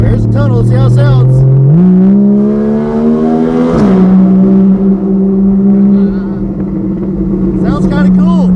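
Car in sport mode driving through a tunnel with the windows down, a loud, steady engine drone that climbs in pitch, drops as a gear shifts, then holds on, with brief talk at the start and end.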